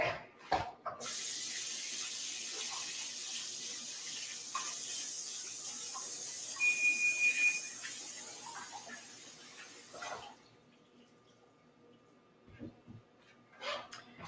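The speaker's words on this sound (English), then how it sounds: "I'm going to wash my hands real quick." Water from a kitchen tap runs steadily for about nine seconds while hands are washed, a close, even hiss that cuts off sharply, followed by a few faint handling knocks.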